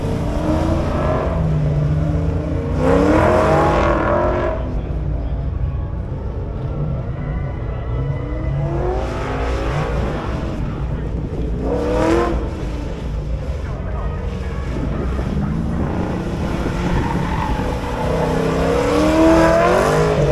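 A drag racing car launches at a raceway during the Hot Rod Power Tour, with a steady engine rumble building into several surging revs and passes, loud and close at times, with people talking over it.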